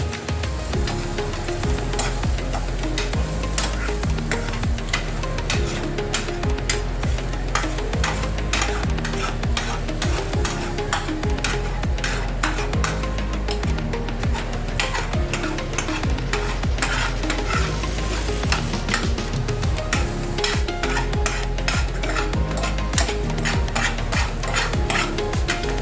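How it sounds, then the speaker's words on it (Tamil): Eggs being stirred and mixed in a hot pan, with a steady sizzle of frying under repeated scraping and clinking of a spoon against the metal, loud and continuous throughout with no talking. "இந்த முட்டையை நல்லா கலக்க போகிறோம்."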